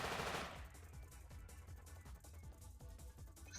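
Rapid machine-gun bursts rattle through a skirmish in the video game War of the Human Tanks, a steady stream of fairly quiet shots running for several seconds with no talk over them.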